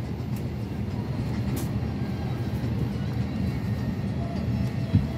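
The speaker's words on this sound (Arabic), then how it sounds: "هاي الطيارة بدأت تمشي يا جماعة شوي شوي" An airliner slowly taxis before takeoff, heard from inside the cabin as a steady low engine rumble and hum with faint rattles and a brief thump near the end.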